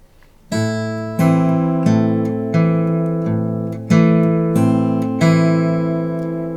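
Bass line on guitar with pinched strings, a run of plucked notes that steps downward and then climbs back up, about nine clear, evenly spaced notes that ring and sustain, heard alone.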